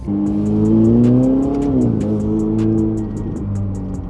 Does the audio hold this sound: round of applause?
no